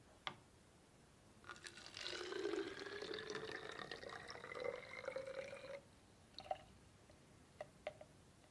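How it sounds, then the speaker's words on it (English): Water poured from a beaker into a bottle, a steady trickling stream with rising gurgle lasting several seconds, followed by a few faint clinks of glass. "Now I'm going to transfer the water from this beaker into this bottle here."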